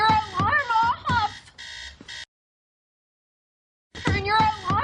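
An alarm clock sounds in repeated, rhythmic electronic bursts, loud and near, stopping for a couple of seconds before starting again.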